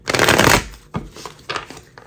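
A Santa Muerte tarot deck is shuffled by hand: one long riffling burst up front, then a few shorter, softer shuffles and card taps, close and clear with no voice.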